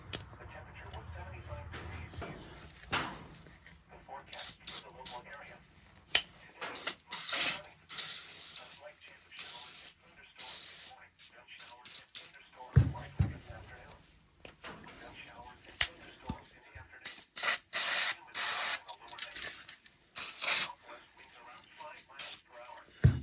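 Rim oil cleaner sprays onto a classic Buck knife in repeated short, sharp hissing bursts, loud and close, between quiet stretches with occasional clicks and some talk.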